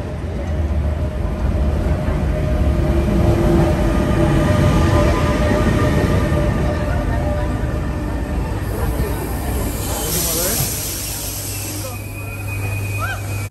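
A train arriving at Budapest Kelenföld station gives a continuous rumble with squealing brakes near the end, a voice speaking over it partway through.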